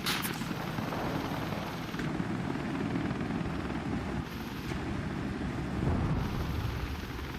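A damaged helicopter in the game Wardogs drones with a steady low rotor rumble and broadband roar, loud and continuous, swelling slightly near the end.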